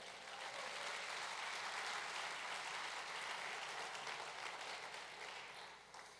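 Church congregation at a midweek Bible study applauding, steady sustained clapping from a crowd that holds evenly and tapers slightly at the end, with no voices over it.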